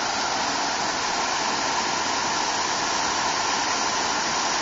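A waterfall, with water pouring straight out of rock, gives a steady, loud, broadband rushing roar that stays constant with no other sounds.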